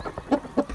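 A hen clucks in a cage in a rural poultry setting: three or four short, close clucks in quick uneven rhythm, alone without talk.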